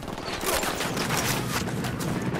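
Rapid gunfire rattles through a Ghost Recon Wildlands firefight against drug cartel marines, dense overlapping bursts at moderate loudness with no talking.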